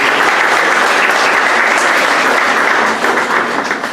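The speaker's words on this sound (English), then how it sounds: "I want to give applause for the principal" At a college event on Muslim youth, an audience gives the principal a round of applause: dense, loud, sustained clapping from a large crowd that holds steady before tapering slightly at the close.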